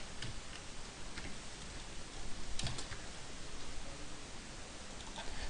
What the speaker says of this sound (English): So I'm just double clicking in here, making that happen.